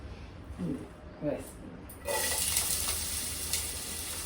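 Onions and green chillies dropped into hot oil, a brief quiet stretch with a few soft clicks and then a sudden, steady hiss of frying that carries on to the end.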